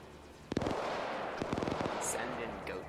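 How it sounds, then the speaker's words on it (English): Big explosions in Arma 3 during a military operation where a radio tower is destroyed: a sharp blast at about half a second is followed by a cluster of rapid booming cracks a second later, over a steady rumbling combat background. "Hearing some big explosions go off."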